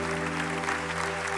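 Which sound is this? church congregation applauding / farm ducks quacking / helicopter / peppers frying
church congregation applauding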